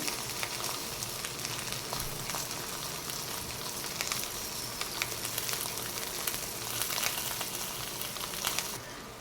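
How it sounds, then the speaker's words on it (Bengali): Steady crackling sizzle of an egg frying in a banana leaf, continuous and close, with no talking. "আমার পাতা ডিম ভাজাটা হয়ে গেছে, আমি এখন নামিয়ে নেবো।"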